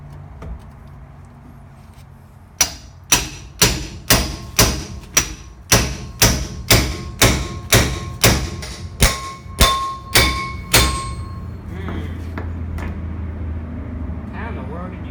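A hammer strikes a pickle fork being driven in to separate the front spindle on a 2000 Toyota Tundra during a suspension job: about fifteen sharp metallic blows in a steady, even rhythm, close and loud, then the hammering stops.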